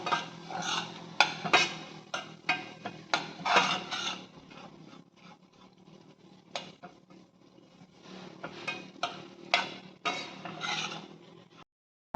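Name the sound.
semolina (rava) being roasted and stirred in a pan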